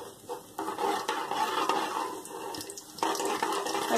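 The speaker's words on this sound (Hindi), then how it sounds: "उसके बाद हम अजवाइन का भगार लगाएंगे, अजवाइन डालेंगे," Ajwain (carom seeds) tempering in hot oil produces a fizzing sizzle with scraping stirs and small surges, close and moderately loud, without speech.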